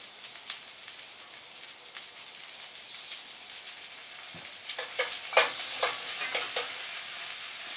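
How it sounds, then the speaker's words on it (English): Stir-fry sauce hisses and sizzles in a pan with grilled pork loin and vegetables, a steady close frying hiss broken by sharper clinks and stirring scrapes in the second half, with no talking. "put a little stir-fry sauce in here"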